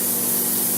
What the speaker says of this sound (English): Spray that in there.